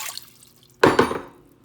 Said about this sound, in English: you just let the water just leak out of the strainer